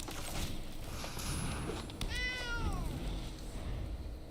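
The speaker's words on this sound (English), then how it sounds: "We got a cat." A cat creature in the Magic: The Gathering Arena video game gives a single rising-and-falling meow, clear over a steady background of game ambience.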